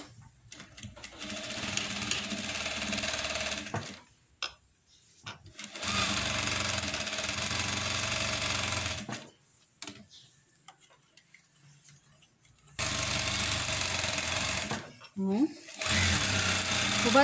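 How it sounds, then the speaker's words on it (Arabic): Sewing machine stitching a recycled knit sweater, running in three long loud bursts of rapid steady stitching separated by pauses with handling sounds and brief speech. "مش هبدأ خياطة من اول 4 سنتي، هبدأ خياطة من بعدها."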